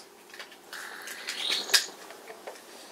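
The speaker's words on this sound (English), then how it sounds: "So this is the parrot house," Parrots in a zoo's parrot house give a few scattered chirps and short squawks, moderately close, with one sharper call standing out amid quiet indoor background.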